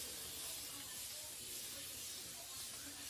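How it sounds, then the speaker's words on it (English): A spray bottle filled with hair leave-in product spritzing in a continuous soft hiss, fairly faint and steady throughout. "So I put mine in a little spray bottle here, and I shake it up"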